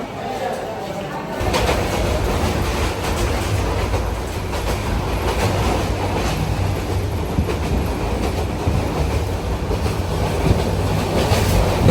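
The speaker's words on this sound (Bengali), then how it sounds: "আমাদের ট্রেনটি আখাউড়া জংশন রেলওয়ে স্টেশনে যাত্রা বিরতি দিল" A passenger train at Akhaura junction railway station rumbles loudly and continuously after a quiet opening second, with steady rolling noise and faint wheel clatter throughout.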